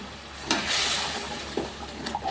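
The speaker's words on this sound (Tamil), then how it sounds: "சுடு தண்ணியாக ஊற்றிக்கலாம்." Hot water splashes into a sizzling pan of egg and dried fish gravy, bursting into a loud hiss and sizzle that gradually settles, with a few clinks of a utensil.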